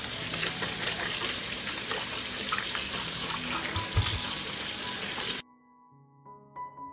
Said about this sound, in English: I will wash the tomatoes.